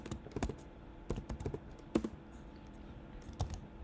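Code is typed on a computer keyboard while building a Flutter widget layout: irregular bursts of close, crisp key clicks with short pauses between runs, over a quiet room background.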